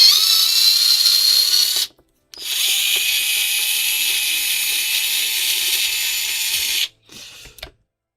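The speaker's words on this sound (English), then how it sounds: "Let's use the Mr. Swindon's torque one that he's got." A torque wrench being used on a repair job, heard as two loud, steady mechanical whirring runs cut by a short silence, then a brief weaker burst at the end.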